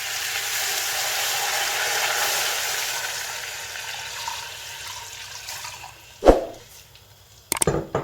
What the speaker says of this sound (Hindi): पानी ऐड करना है।